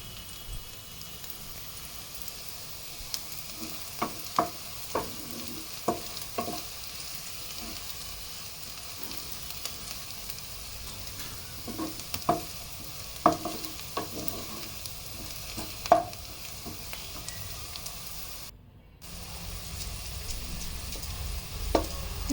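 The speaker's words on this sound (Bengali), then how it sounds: "জিরেটা ভালোভাবে ভেজে নেব" A small amount of cumin seeds fry in hot oil with lightly browned onions for a lentil-fritter gravy. A steady, soft sizzle runs throughout, broken by sharp clicks and scrapes of stirring.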